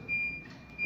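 Reversing beeper of a 2003 Toyota COMS electric car, a faint steady electronic tone heard briefly in a short, quiet moment.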